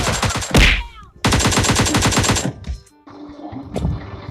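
Gunfire in the video game PUBG Mobile during a deathmatch: loud, close bursts of rapid automatic fire with a brief gap between them, a sharp blast, then quieter scattered shots and echoes.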